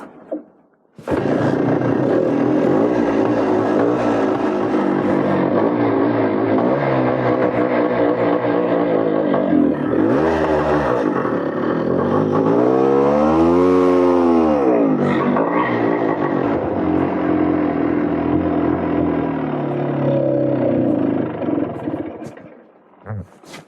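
A 1973 Yamaha DT3 motorcycle engine is cranked and sputters into a rough, loud running roar with revving swells, fairly close, then cuts out near the end.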